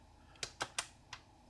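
Keys clacking on a Sirius ZX Spectrum clone keyboard, four distinct presses in a quick uneven cluster and then a single later tap, fairly close over a faint background hum.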